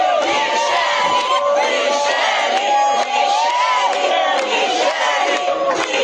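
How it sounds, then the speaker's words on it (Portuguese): A group of protesters in the city of Lajeado, Rio Grande do Sul, loudly chants a name in unison, a dense crowd roar with rhythmic rising shouts that continues without a break. "um grupo de manifestantes na cidade de Lajeado gritando o nome de Michele"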